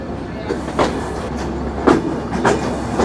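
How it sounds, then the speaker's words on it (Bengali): Aboard the Rupsha Bangla Express as it pulls into Jessore Junction railway station in Bangladesh, a steady low rumble fills the carriage. A few soft wheel clacks punctuate it at irregular intervals. "আমাদের ট্রেন প্রবেশ করতেছে যশোর জংশন রেলওয়ে স্টেশনে"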